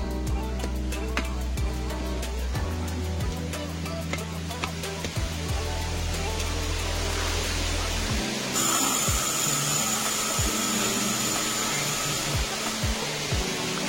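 A gas torch heating a yellowed, dull headlamp on a Panther Hi Sporty roars with a broad steady hiss that flares louder partway through, amid scattered clicks and handling noises.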